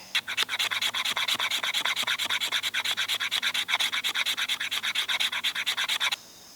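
A knife carves shavings from a fatwood stick in quick, even rasping strokes, a rapid rhythmic scraping run close up and loud, stopping abruptly near the end with no speech.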